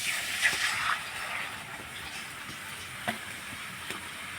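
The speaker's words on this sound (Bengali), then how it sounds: "এখন কড়াইতে জল দিয়ে দিব।" Water poured into a hot wok after toasting white sesame seeds gives a steady loud hiss and sizzle, with a few brief crackles and pops throughout.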